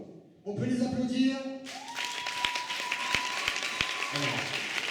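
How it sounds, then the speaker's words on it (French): Audience applause breaks out at a hypnosis dance show, a broad steady wash of clapping that rises after a brief quieter start and carries on under scattered voices and a sustained tone. "On peut les applaudir."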